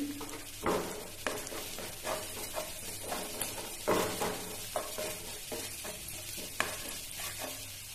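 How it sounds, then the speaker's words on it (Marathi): Asafoetida (hing) dropped into hot oil for a spicy Konkani-style banana flower and black pea curry, giving a steady crackling sizzle with stirring clatter and several sharp utensil knocks, close and alone. "आता हिंग टाकते मी"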